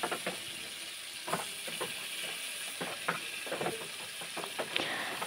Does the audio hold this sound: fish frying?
yes